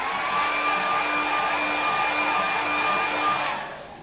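A hair dryer blows on wet watercolour paint, a steady close whooshing whir with a faint whine that runs evenly for about three and a half seconds before tapering off.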